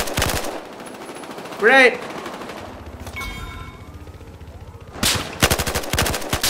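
Rapid automatic gunfire from the video game Battlefield Hardline, bursts of close, loud shots at the start and again near the end, with quieter distant fire and a brief voice in between.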